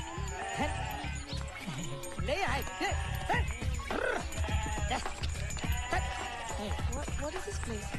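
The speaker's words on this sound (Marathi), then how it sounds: "शेळ्या" A herd of goats bleats loudly and repeatedly in a village lane, with overlapping cries of varying pitch. People talk among the animals.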